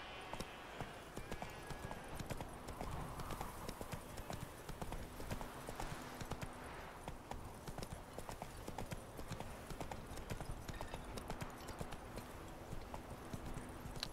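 Roach the horse trotting in the video game Witcher 3, a brisk, regular clip-clop of hooves that carries on steadily throughout, set against game ambience and a faint background drone.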